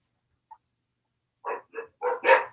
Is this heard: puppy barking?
yes